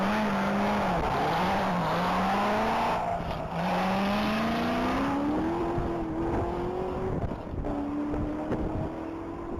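A 2009 Corvette ZR1 blasts down a one-mile top-speed course at the Texas Mile, its loud engine note climbing steadily through the gears, with wind buffeting the microphone throughout.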